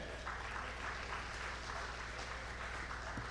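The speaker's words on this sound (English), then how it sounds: "Give her a resounding applause" A conference audience at a Nigerian diaspora youth summit applauds steadily for a speaker taking the podium, with sustained, fairly distant clapping throughout.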